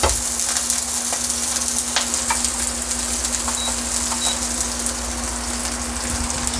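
Garlic frying in a hot pan for Filipino chicken pastil, a steady close sizzle with crackling spatters and a constant hum underneath, running unbroken and fairly loud.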